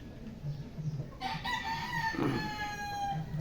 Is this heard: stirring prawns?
no